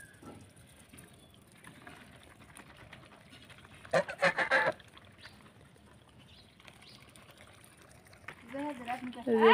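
Ducks being fed rice and grain at a rural home give harsh honking calls in two short bursts, one brief loud flurry early on and a rising chorus at the end, over faint background noise.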